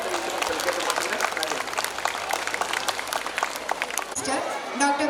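Audience clapping at a school annual day celebration, brisk broadband applause with sharp individual claps across the hall, then cutting off abruptly near the end as a voice begins speaking.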